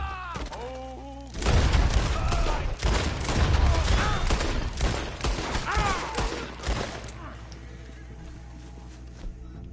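Red Dead Redemption 2 gunplay delivers a dense, loud burst of rapid gunfire and impacts that lasts several seconds and then thins out, mixed with game voices and shouting.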